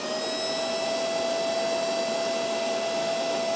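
A MOOSOO cordless wet/dry shop vacuum powered by Makita batteries runs on its high setting, giving a steady, loud, close whine with a constant pitch and a rushing airflow roar throughout.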